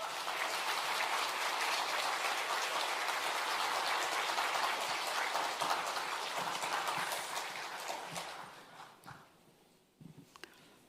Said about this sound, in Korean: 우리의 마음을 담아서 우리 박수로 맞춰주시면 감사하겠습니다